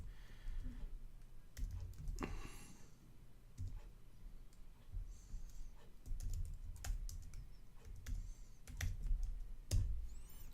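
Rapid, irregular keystrokes on a computer keyboard click and tap close by at low volume, in short bursts with brief pauses, with no talking.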